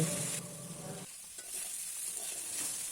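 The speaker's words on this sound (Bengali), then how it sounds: "এবার সবজিগুলো নেড়ে নেড়ে ভাজতে থাকবো" Vegetables stir-fried with salt and turmeric in a pan, giving a steady close sizzle with scraping stirs; a brief burst of louder frying gives way to quieter crackling, and no one speaks.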